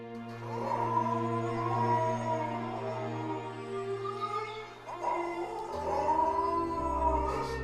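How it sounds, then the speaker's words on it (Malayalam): A dog howls in long, wavering, drawn-out cries, first one sustained howl, then a brief pause and another, close and clear. "അവൻ നാല് ദിക്കും കേൾക്കുമാറ് ഓരിയിട്ടു"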